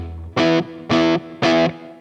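Three short, evenly spaced distorted electric guitar chords, loud and close, each ringing briefly into a small room reverb, played without an EP boost.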